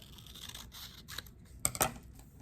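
Scissors snip a U shape out of paper: a few quiet, close cuts and rustles, ending in two sharper snips.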